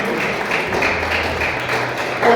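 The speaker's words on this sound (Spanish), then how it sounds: "Dale un aplauso fuerte al Señor." A church congregation applauds together, giving a dense, continuous wash of clapping at moderate loudness that swells slightly toward the end.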